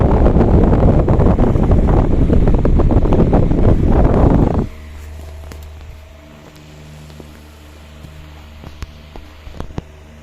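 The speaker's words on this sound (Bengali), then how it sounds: "এখন প্রচণ্ড বেগে ঘুরতেছে ফ্যানটা" A battery-powered Super Star DC fan spinning at full speed blows a loud, rough rush of air across the microphone for about four seconds. It then drops to a quieter, steady motor hum with faint ticks.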